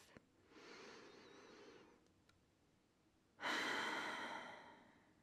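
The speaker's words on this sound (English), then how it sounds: "Take a big breath in through the nose and slowly out through the mouth." One slow, soft breath drawn in through the nose, a short pause, then a louder, airy exhale through the mouth that gradually fades out.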